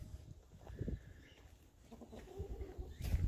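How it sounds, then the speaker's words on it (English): Chickens in an outdoor poultry enclosure at an animal welfare centre, with soft, irregular clucks and low murmuring calls that sit faint against background outdoor noise. "It's our poultry enclosure."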